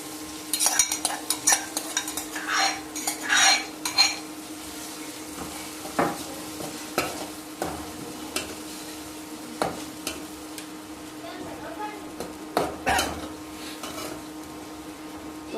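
Green chillies, garlic and tomato fry in hot oil in a pan, giving a soft continuous sizzle under irregular clinks and scrapes of a spoon stirring against the metal.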